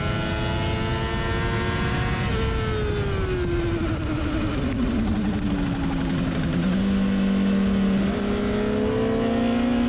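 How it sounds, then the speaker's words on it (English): A car held in third gear grinds through rear chatter from back torque, a loud, steady engine drone whose pitch sags and wavers, with a juddering, buzzing texture throughout and no talk. "In this clip here, I'm in third gear the whole time, but there's still enough back torque to create that rear chatter."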